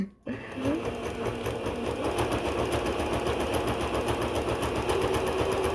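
A sewing machine stitches a ribbon skirt in a steady, fast, rattling run that starts abruptly and keeps going loud and close for several seconds, without any talk.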